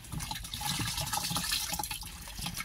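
Water splashes and pours steadily onto a herbicide sprayer pump being rinsed, a continuous broadband rush with uneven spattering throughout, fairly close.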